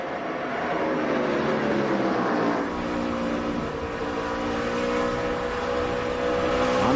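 NASCAR race cars roar together around the Bristol short track during a night race, a dense, continuous loud engine drone with overlapping pitches shifting as the pack circles, no voices.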